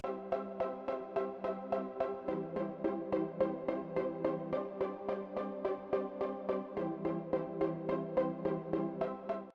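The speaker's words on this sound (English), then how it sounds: "I've then added in these pizzicato strings," Plucked pizzicato strings play short rhythmic stabs in a bright 80s-style pop chorus. The evenly spaced notes run steadily throughout, alone and with no voices.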